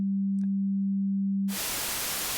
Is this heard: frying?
no